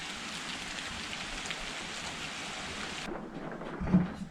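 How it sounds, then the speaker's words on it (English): Steady fall rain patters softly and evenly at a campground cabin, a continuous hiss of drops on surfaces, fairly faint, with the sound thinning out near the end. "watch the rain here for a bit"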